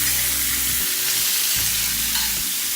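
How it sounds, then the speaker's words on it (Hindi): Chicken frying with browned onions on a tawa, a loud, dense sizzling hiss filling the whole short stretch, with a couple of low stirring scrapes underneath and no voices. "और इसको साथ में प्याज के भून लेते हैं।"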